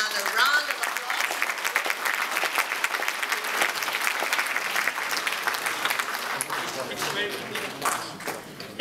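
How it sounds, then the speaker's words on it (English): Audience applause at an award ceremony, dense clapping from a crowd that carries on steadily for several seconds and then begins to thin, with no speech over it. "another round of applause"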